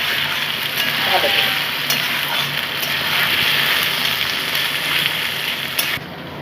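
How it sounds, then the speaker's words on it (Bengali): Chopped onions fry slowly in a pan for a quick chicken curry, giving a steady, moderate sizzle with occasional stirring clicks that cuts off abruptly at the end. "চারটে পেঁয়াজ কুচি করেছি আমি চারটে পেঁয়াজে ছশো গ্রাম মাংস আমি ওই পেঁয়াজগুলোকে আমি ভেজে নিচ্ছি আস্তে"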